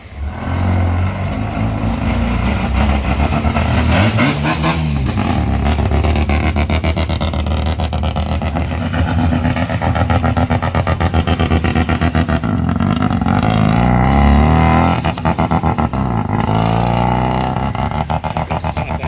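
Hatchback fitted with a titanium TQ exhaust revving hard and close, a loud sustained engine roar with rising and falling pitch sweeps and no break through the whole stretch.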